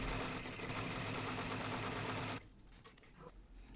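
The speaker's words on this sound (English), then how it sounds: "So just let that machine finish the satin stitch around your text box" An embroidery machine running a satin stitch produces a loud, fast, steady mechanical whirring buzz that cuts off abruptly partway through, leaving quieter room noise and faint clicks.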